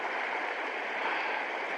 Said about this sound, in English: all you can hear is the trickle of water